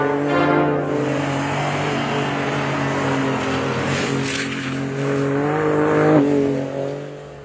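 A drifting car's engine holds a loud, sustained high-rev drone, rising and falling, while tires squeal, ending with a sharp shift in pitch near the end, and no voices.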